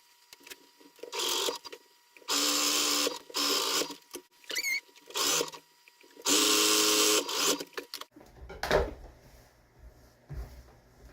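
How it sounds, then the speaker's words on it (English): A sewing machine runs in several short bursts while stitching the sides of a fabric laundry bag, each burst a fast whirring hum, with fabric handling and thumps between and after them. "We are going to go ahead and stitch off this side and this side."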